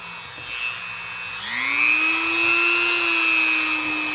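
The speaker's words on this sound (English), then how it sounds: "We're going to start cleaning some blades. And thanks to W, I got some more number 7 heavy duty rubbing compound." A knife blade being buffed with number 7 heavy duty rubbing compound on a powered wheel: a steady, loud whirring hum that climbs in pitch partway through and then holds, with friction hiss running under it.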